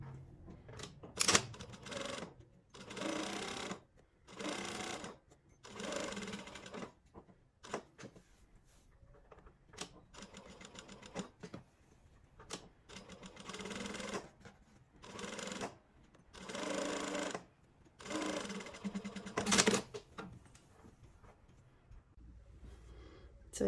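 A sewing machine stitches a topstitched placket in short, quiet bursts of rapid mechanical stitching separated by pauses, with soft handling noises in between and no talking.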